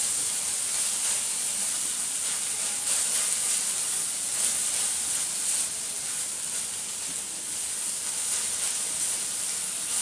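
Mixed vegetables with fresh coriander leaves sizzle and hiss steadily in a hot pan while being stirred, a continuous close frying noise with no talking.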